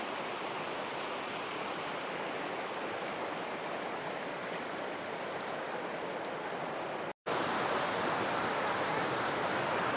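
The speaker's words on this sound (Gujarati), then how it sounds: "આ બધું પાણી નીચે આવે છે. આ ધોધનું જ પાણી છે" Waterfall water rushing over rocks at Garud Gufa, Dholumbar, a constant broadband roar that stays loud and even throughout, broken only by a brief dropout.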